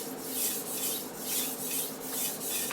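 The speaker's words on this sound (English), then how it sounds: "A lot of that depends on the type of knife you're sharpening" A chef's knife being sharpened on Japanese water stones, a close, rhythmic scraping rasp in about five even back-and-forth strokes with no talking.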